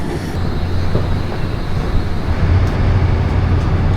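The tiger-striped V-Train, a three-car Baekdudaegan canyon sightseeing train, sits at Yeongju station with a low, steady mechanical rumble and hum close by.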